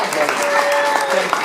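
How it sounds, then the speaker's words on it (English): Brief burst of audience clapping at the Fessy Awards at JamNOLA, a quick crowd patter heard under talk, with a tone held in the background. "Clap for everybody."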